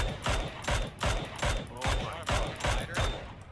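Minigun fire from a glider in a video game, a rhythmic series of about nine heavy bursts at a steady pace, loud and close, with no clear talking.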